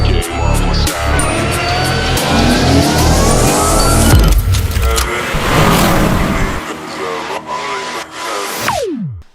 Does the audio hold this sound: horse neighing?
no